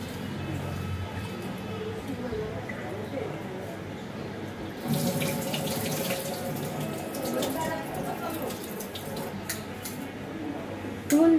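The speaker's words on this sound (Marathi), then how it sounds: "दोन तीन पाण्याने धुऊन घ्यायचे" Rice and lentils are washed in a sink under running tap water. The stream gushes and swishes steadily, swelling louder partway through as the grains are stirred, with soft splashes near the end.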